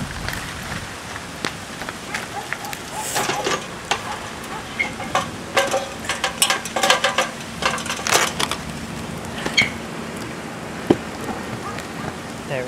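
Rain pattering on a roof during wind, irregular close taps and splashes over a steady hiss, with movement sounds and faint talk.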